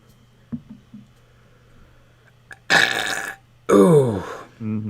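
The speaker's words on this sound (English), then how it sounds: "I think I front-loaded the stream with all my good burps" A loud, drawn-out burp erupts close to the microphone, followed by a second long belch and a shorter one, with a few soft clicks beforehand and no talking.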